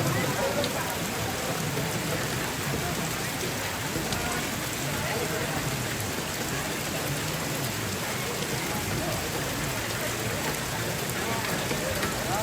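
Steady rain pours down outdoors during a Toraja traditional ceremony at a tongkonan house, a dense continuous hiss throughout, with faint voices murmuring underneath.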